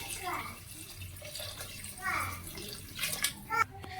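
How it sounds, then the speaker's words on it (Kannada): Water is poured into rice in a pan for pulao, a steady, soft splashing flow under a person talking. "ಇವಾಗ ಒಂದು ಸ್ವಲ್ಪ ನೀರು ಹಾಕೊತಾ ಇದ್ದೀನಿ"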